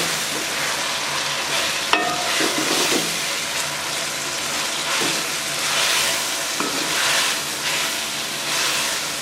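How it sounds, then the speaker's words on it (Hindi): Tomatoes sizzle steadily as they fry in a pan for a bhindi (okra) fry masala, with a spoon scraping and stirring through them in slow, repeated strokes under a constant hiss. "टमाटरों को अच्छे तरीके से फ्राई करेंगे।"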